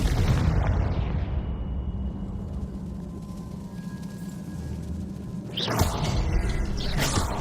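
In Hogwarts Legacy, a fire-blast spell opens with a heavy, booming burst, falls to a low rumble, then a second loud crackling burst hits near the end.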